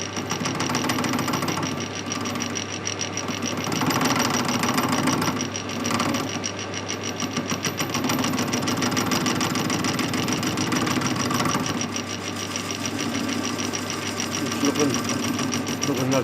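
A welded metal drive dog part for a wood lathe being machined: a steady, loud mechanical drone with a fast rhythmic chatter, running unbroken throughout.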